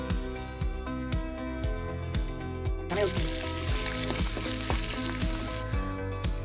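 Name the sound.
freshly caught river fish frying in hot oil in a wok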